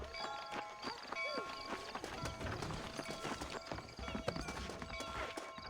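Horse hooves clip-clop steadily in the Red Dead Redemption video game, a rapid, close, rhythmic run of hoofbeats with a brief whinny partway through.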